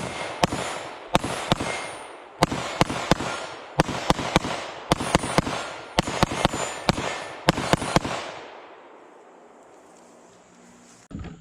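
A Keltec PR57 pistol fires FN SS197 rounds in rapid strings of sharp, loud cracks, several groups of shots with short pauses between them. The firing stops after about eight seconds and a quiet hum remains.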